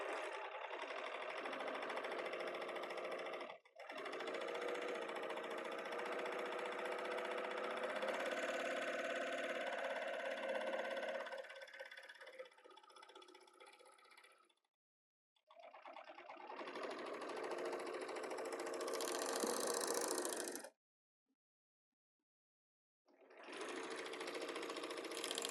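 A serger sewing machine runs in long steady whirring stretches as it stitches and trims a fabric edge with its knife, close and loud, stopping briefly between runs.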